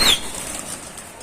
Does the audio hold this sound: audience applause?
no